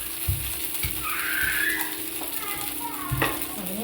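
A rice flour pancake fries in oil in a pan, hissing and sizzling steadily. A few soft knocks and scrapes of stirring come through, and there is no talk.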